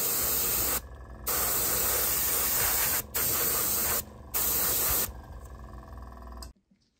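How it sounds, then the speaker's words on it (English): Airbrush spraying matte varnish onto a model, a close, steady hiss delivered in several bursts of about a second or two, separated by short pauses, ending with a softer trailing spray before stopping. "So I've got my airbrush loaded up with the varnish. It's coming out nicely."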